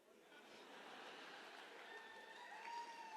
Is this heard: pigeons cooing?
no